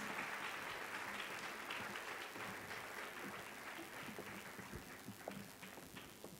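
A seated audience at a women's health and wellness event applauds a panel, a continuous, moderately quiet patter of many hands with a few distinct claps, gradually thinning toward the end without any talk.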